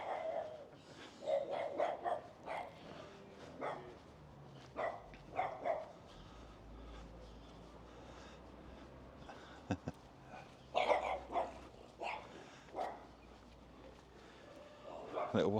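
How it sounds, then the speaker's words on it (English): Several small dogs bark in short bursts at a moderate distance, scattered through the clip with quiet gaps, over faint outdoor background noise near a rural crossroads in Flintshire, Wales. "Good guard dogs though, aren't they?"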